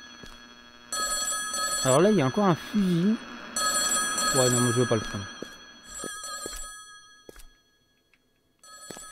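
A telephone rings in The Backrooms: Survival on Nintendo Switch, repeated bell-like bursts running steadily under someone talking, then fading to near silence at the end.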